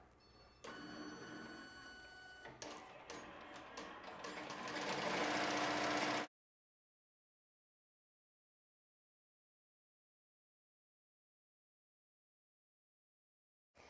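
An embroidery machine stitches an appliqué monogram onto a sweatshirt, giving a steady, fast mechanical whirr that starts after a short pause, builds louder, and cuts off abruptly about halfway through, with silence after.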